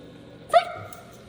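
A dog gives a single short, sharp bark, close and fairly loud, against a quiet indoor background.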